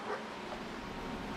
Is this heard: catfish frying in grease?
no